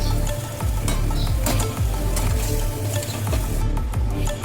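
Chicken boiling water is poured into a hot pan of dhaba-style chicken bharta, setting off a loud, continuous sizzle and bubbling with a few stirring bursts, mixed with background music.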